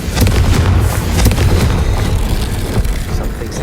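A Confringo blasting spell explodes in the Hogwarts Legacy video game, a loud continuous roar of booming blasts and crackle with no pause.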